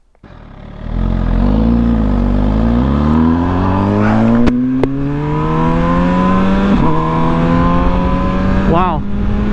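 A 2020 MV Agusta Brutale 1000 Serie Oro limited-edition motorcycle with a World Superbike-derived engine, heard while riding: the engine climbs steadily in pitch through the gears, loud and close, with brief shift breaks and a rising whine.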